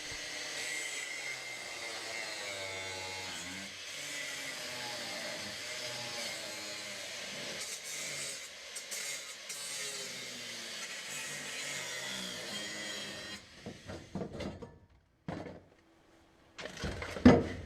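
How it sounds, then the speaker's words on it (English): A grinder works on the rear fender of a 1982 Audi Rally A2 replica, filler inside, with a sustained abrasive whine and rasp for most of the stretch, then breaks off into short, uneven bursts near the end. "and I'll start grinding this off."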